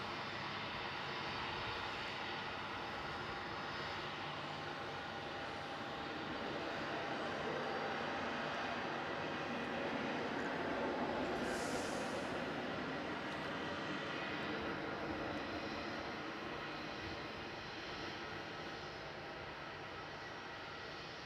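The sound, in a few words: airplane landing at Melbourne Airport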